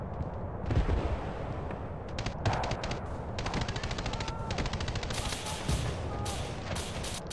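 Rapid automatic gunfire crackles in bursts during a Battlefield 2 match, with dense volleys and scattered single shots layered over each other, fairly loud and continuous throughout.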